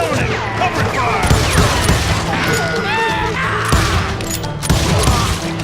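A dense fusillade from the Western shooter Call of Juarez, with rapid overlapping gunshots and booms, fills a loud, busy battle soundscape without a pause.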